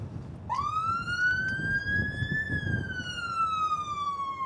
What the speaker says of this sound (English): Put the siren on.